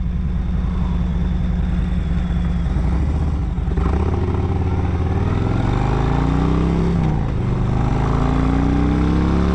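A 2021 Harley-Davidson Road Glide Special with engine and clockwork mods rumbles steadily underway, its deep close engine note rising and falling through gear changes with wind buffeting, no talk.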